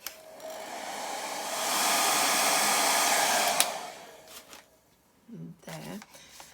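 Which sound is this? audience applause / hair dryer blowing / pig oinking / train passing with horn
hair dryer blowing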